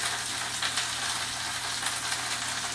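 Kale and Brussels sprouts sizzle steadily in a hot pan for a warm winter salad, a dense even crackle of frying held at a constant level close by, with no talking.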